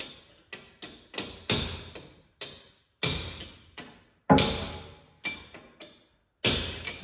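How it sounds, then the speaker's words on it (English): A hammer and punch tap a bearing race into a Dana 44 differential, giving sharp metallic strikes in an irregular rhythm, each ringing briefly before dying away, with short pauses between blows. "Once it seats, you'll hear that tone change when you're tapping on it."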